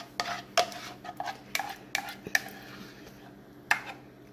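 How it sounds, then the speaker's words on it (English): Roux being mixed into potato soup in a slow cooker pot, with a utensil scraping and clinking against the crock in irregular, fairly close knocks and taps, and no talking. "Now we're going to add this roux to it. Then what I like to do, I mix it in pretty good."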